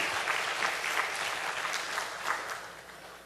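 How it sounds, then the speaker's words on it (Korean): A church congregation applauding warmly to welcome the pastor, a dense, even wash of many hands clapping together that holds steady and tapers slightly toward the end. "우리 큰 박수로 한번 환영했으면 좋겠습니다"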